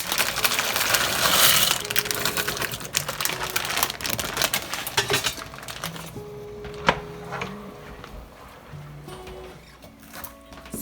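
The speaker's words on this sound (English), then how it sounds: "And I'm chopping up cilantro." A knife chops cilantro on a board in a quick run of crisp taps. The chopping thins to scattered single knocks, and a voice speaks briefly under it.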